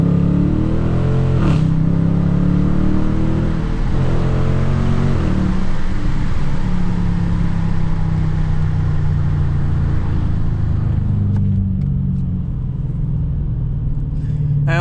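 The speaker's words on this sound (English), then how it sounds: "I'll show you another example of how loud this exhaust is right now." A 2020 Dodge Challenger R/T with a loud exhaust accelerates hard, a deep roaring engine note climbing through revs and then easing off into a lower rumble, close and loud.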